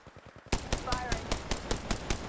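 Rapid automatic gunfire in Apex Legends, sharp repeated shots in a steady burst of about ten rounds after a quiet start, loud and close.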